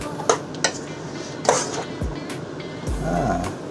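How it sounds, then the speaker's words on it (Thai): Pork belly being stir-fried in a pot for Thai braised pork, with scraping, stirring clatter and sizzling in bursts, close and fairly loud. "บอกว่าให้ผัด อ่าผัดตามเข้าไป"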